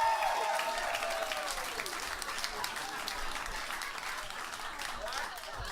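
A comedy club audience claps and cheers for a comedian taking the stage, the applause fairly faint and scattered, with a voice speaking over it at the start.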